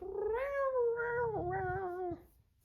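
A cat gives a drawn-out, wavering meow of about two seconds, loud and close, with no other sound around it.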